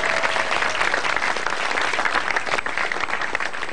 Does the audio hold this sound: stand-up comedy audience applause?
yes